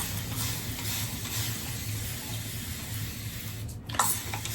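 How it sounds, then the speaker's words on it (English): A continuous-spray water bottle releases a steady, close hiss of fine mist that runs for several seconds, with a small handling noise near the end. "Again, this is a continuous spray water bottle."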